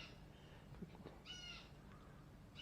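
Crows caw a few times in faint, distant outdoor ambience, with a brief clatter near the start and the calls bunched in the middle, no talking.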